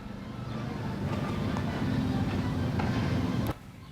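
A tourist train ride at the Old Tucson western film set, with a steady low rumble and rolling mechanical noise throughout that cuts off sharply near the end.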